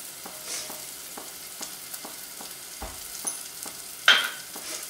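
Ground spices such as coriander and cumin powder being stirred into matar paneer in a pan: soft, steady sizzling with regular light scraping taps from a utensil and one sharper clink near the end.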